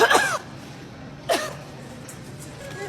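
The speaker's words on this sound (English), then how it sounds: "She's coughing at me." Two sharp, voiced coughs from a woman, one at the start and another about a second later, close by with quiet pauses between.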